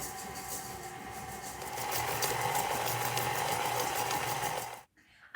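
Electric mixer whirring steadily as it blends cookie dough with semi-sweet chocolate chips, a close continuous motorized buzz with rhythmic churning that stops abruptly near the end.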